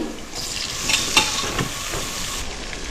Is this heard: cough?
no